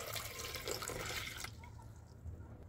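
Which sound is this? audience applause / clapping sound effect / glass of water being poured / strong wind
glass of water being poured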